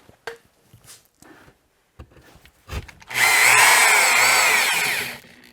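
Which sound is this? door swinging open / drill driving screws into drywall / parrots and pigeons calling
drill driving screws into drywall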